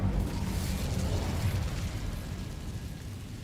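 An Incendio fire spell cast in a Hogwarts wizarding game bursts into a loud, rumbling whoosh of flame that roars steadily and then slowly fades, with no talk over it.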